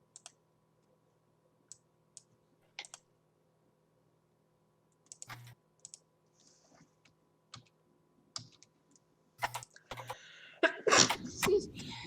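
A single sneeze bursts out loudly near the end, following a stretch of scattered keyboard typing and clicks in a quiet room, with people talking during a tabletop role-playing game session.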